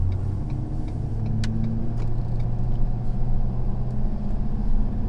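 A 2019 Ford F-350 pickup with the 6.7 engine pulls up to cruising speed on a highway, its steady low engine drone and road roar continuous and close throughout, with a few faint ticks over the top.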